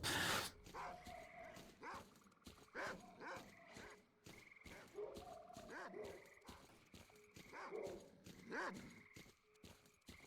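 Dogs barking in the video game S.T.A.L.K.E.R. Call of Pripyat, a pack giving repeated yelps and barks in bursts over about ten seconds, fairly close, with other game noise beneath.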